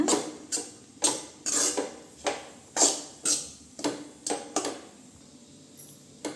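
A spoon stirs cooked rice into a tomato mixture in a pan, making a steady run of about a dozen clinking scrapes against the metal, close and fairly even, then tapering off.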